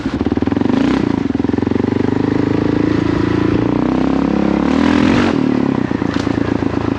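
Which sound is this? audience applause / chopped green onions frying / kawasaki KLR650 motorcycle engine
kawasaki KLR650 motorcycle engine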